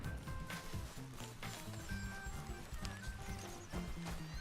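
Wild horse in Red Dead Redemption 2 neighing and whinnying several times over steady clip-clopping hooves, fairly close, with game ambience and music tones underneath.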